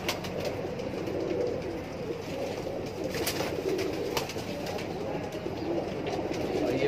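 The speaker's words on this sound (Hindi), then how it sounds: "और दोस्तों ये है मेरा किंग कबूतर सुल्तान।" Pigeons in a high-flyer loft, including an old king pigeon, coo softly against a continuous low background rumble. The calls are faint and repeat at a steady pace.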